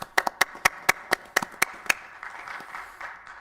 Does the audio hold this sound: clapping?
yes